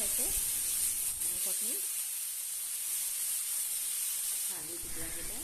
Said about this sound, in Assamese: 5 মিনিটৰ কাৰণে হাই ফ্লেমত এতিয়া ভাজি ললো